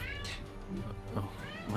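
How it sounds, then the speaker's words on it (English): A Maine Coon cat meows repeatedly in the background, rising wavering cries sounding under a person talking. "I can hear your beautiful cat in the background"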